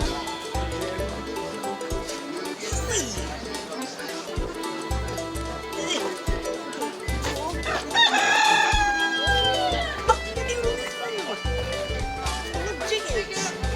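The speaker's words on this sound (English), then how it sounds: "Chickens!" A rooster crows at Murray Family Farms, its drawn-out call rising midway through over a steady beat of loud music that plays throughout.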